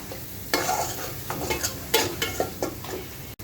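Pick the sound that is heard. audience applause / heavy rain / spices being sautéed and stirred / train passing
spices being sautéed and stirred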